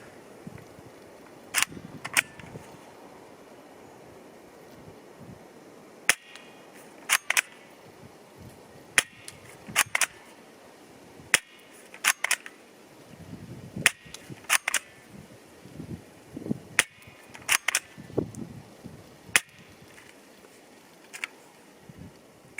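Samopal vz.61 Scorpion submachine gun fired during a 10 m accuracy test, sharp cracking shots in short bursts and single rounds spread irregularly over a quiet background, fairly near.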